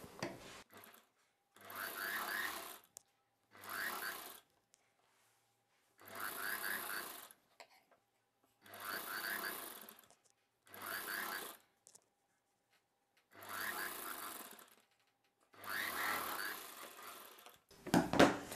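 An electric sewing machine stitches around the armhole of an umbrella dress in eight short, loud, whirring bursts of a second or two each, with silent pauses between them.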